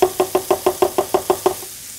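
Sauce is stirred in a hot pan, nine quick, evenly spaced scraping strokes against the metal, close and loud, before the motion stops.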